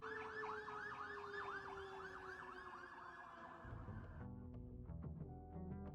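Boston Fire Department truck passes close by with its wailing siren sweeping up and down loudly, then cutting off abruptly, leaving a brief blast of horn and rumbling street noise.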